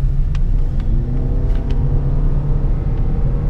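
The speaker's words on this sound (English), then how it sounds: "So I'm going to accelerate up." A 2017 Toyota RAV4 Hybrid XLE AWD accelerates from inside the cabin, giving a steady low rumble and road roar with a faint rising whir. It stays even and continuous throughout, with no talking.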